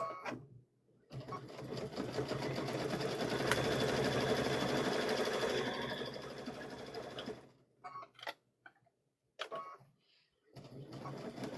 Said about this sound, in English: We're going to stitch across here.